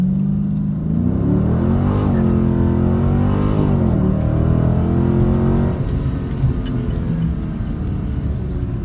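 A 2019 Dodge Challenger Scat Pack launches hard on the street in a first-gear 0-60 run, its V8 engine roaring loudly and climbing in pitch, briefly dipping, then surging again before easing off.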